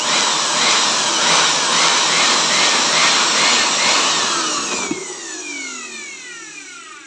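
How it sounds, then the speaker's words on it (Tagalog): Loud, steady blower jet cleaning the inside of a universal coin slot, a dense rushing roar that drops in level near the end as the airflow tapers off, heard alone without talk. "Linisin ng blower."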